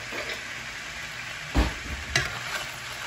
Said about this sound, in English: So all I'm doing is just taking some of that butter and spooning it right in